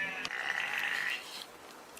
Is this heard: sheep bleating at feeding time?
yes